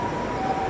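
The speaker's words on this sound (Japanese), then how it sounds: "救急車が来てますね。" An ambulance siren sounds steadily in a short burst, fairly loud and continuous, heard outdoors near a small rice-paddy biotope in Kadoma, Japan, on a hot summer day.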